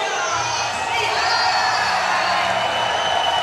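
A large arena crowd, many of them Indian fans, cheers for Indian wrestler Pooja Sihag at a Commonwealth Games wrestling bout: a steady, loud roar of cheering and whooping voices with no breaks.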